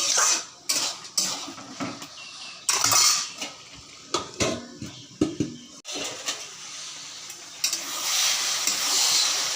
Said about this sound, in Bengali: একটু ভালো করে লাড়াচাড়া দিয়ে নিব